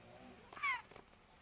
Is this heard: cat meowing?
yes